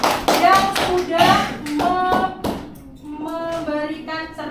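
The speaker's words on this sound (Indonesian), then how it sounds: "Tepuk tangan buat Mas Raffi yang sudah" Children clapping in a classroom, a short burst of hand claps with kids' voices and laughter mixed in, loud and close.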